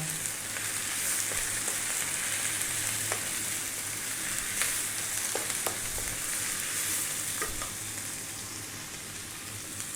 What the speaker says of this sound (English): We're now going to add in the prawns with the shells on.